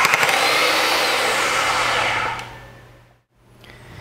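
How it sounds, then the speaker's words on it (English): An AGP DB32 digital tube bender backing out in reverse: a steady loud motor whine for about two seconds that winds down and stops, then a faint restart. "set the direction lever to R and press the trigger switch. The machine will first back out about 15 degrees and stop."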